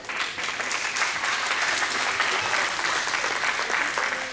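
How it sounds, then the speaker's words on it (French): Audience applause at a keys handover ceremony for a camper van, a steady dense clapping from a crowd that holds at an even level throughout without pause. "On peut l'applaudir aussi"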